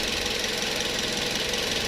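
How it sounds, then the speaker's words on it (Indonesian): A third-generation Toyota Vios Limo, a former taxi, runs at a steady idle during radiator cleaning, its engine close and continuous with a rough, knocking texture and no voices. "Mesin masih bunyi ya."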